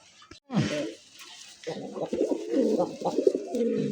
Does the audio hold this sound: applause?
no